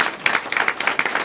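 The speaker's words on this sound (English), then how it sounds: "Clap for yourselves, everyone." An audience at a live show claps in a steady, moderately loud burst of applause throughout.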